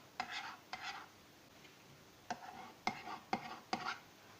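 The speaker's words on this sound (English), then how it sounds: "to take off the extra dough, just use a sharp knife and just take it all off" Sharp knife trimming excess dough from the rim of a pastry case, heard as a string of short, close scraping cuts in two groups, with no talk over them.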